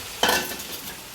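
Potatoes tipped into a hot pan of oil, giving one sudden burst of frying sizzle that then settles to a softer, steady hiss.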